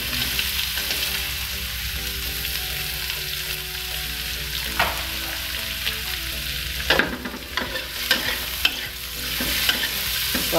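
Chayote and carrots being stir-fried in a pan, a steady close sizzle broken by a series of scraping, clattering stirs in the second half.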